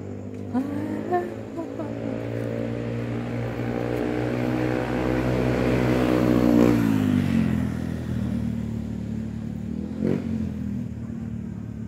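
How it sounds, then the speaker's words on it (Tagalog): A bus drives past near the municipal hall in Banga, South Cotabato, its engine rising in a steady harmonic drone that swells over several seconds and then drops away, with voices and street bustle around it. "May bus gali diri o."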